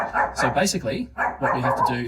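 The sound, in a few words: dog barking in the room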